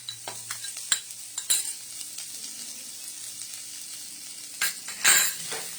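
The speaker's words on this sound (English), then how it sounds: "First, I'll fry the carrot for just a minute." Carrot stir-fried briefly in a home pan, a soft steady sizzle under scattered scrapes and clinks of a spatula, with louder stirring bursts near the end.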